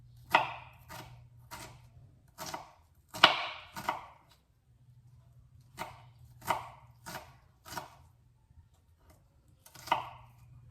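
A knife finely chopping onion on a board, heard as sharp, close taps in quick bursts with short pauses between, over a low steady hum.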